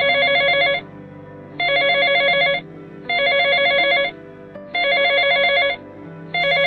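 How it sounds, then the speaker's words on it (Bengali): A telephone ringing up close and loudly, its electronic bell sounding in regular bursts of about a second with short gaps between, five rings in all and nobody speaking. "আরে এখন আবার কে ফোন করছে দেখি তো।"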